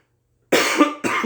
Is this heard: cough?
yes